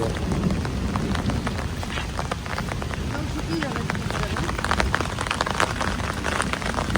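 Heavy rain pours steadily onto waterlogged rice fields, a dense continuous hiss of drops spattering on water and plants, close and loud from start to finish with no pauses.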